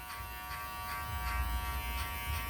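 Electric hair clippers buzz steadily and continuously while notch-cutting a bob haircut, a close, even hum with faint rhythmic pulses and no talking.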